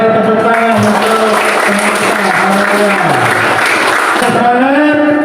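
Classroom applause from students, steady clapping filling the whole stretch, loud and close, with voices and a tonal murmur running underneath.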